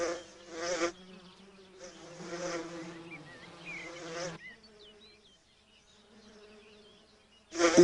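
Bees buzzing close by in short, fairly quiet droning bursts, with gaps of near silence between them and no talking.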